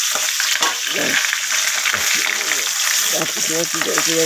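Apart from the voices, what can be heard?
fish frying in oil in a covered wok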